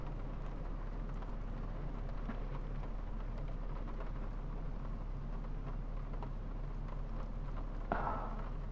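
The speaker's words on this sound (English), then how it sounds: "And can you hear that rain?" Steady rain falls in the Avakeen video game, a soft, even hiss of drops that continues without pause, with a faint brief rumble near the end.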